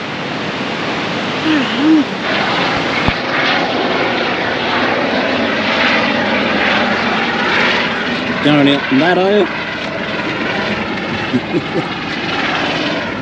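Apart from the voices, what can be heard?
helicopter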